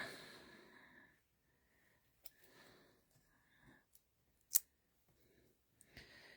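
Scissors snipping paper craft pieces for a card with floral and washi tape, a few quiet, brief cuts and sharp clicks spaced apart in an otherwise hushed room.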